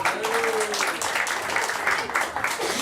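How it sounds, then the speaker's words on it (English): At a temple rebuild fundraising dinner, an audience claps for a few seconds in a dense, even burst of applause that fills the room. "let's get a round of applause."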